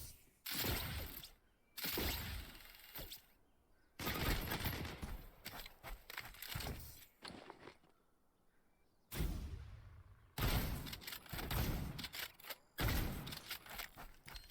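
Bursts of rapid gunfire at a shooting range in the video game Leap ring out loud and close in several separate volleys, with short quiet gaps between them.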